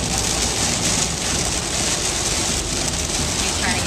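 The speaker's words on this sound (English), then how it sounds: "Pretty bad rain today." Heavy rain pounds steadily on a moving car during a drive home in the Outer Banks, a dense continuous hiss with road and engine noise underneath and a voice speaking over it.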